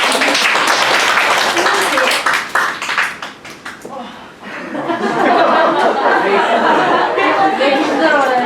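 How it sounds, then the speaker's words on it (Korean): Middle school students in a classroom break into a burst of clapping and chuckling, the applause fading after a few seconds before a lively murmur of chatter and talk fills the room. "박수!"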